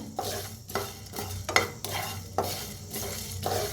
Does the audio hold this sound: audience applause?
no